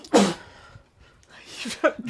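Two sharp sneezes, each a sudden loud burst with an abrupt breathy onset, separated by about a second of quiet, heard up close indoors.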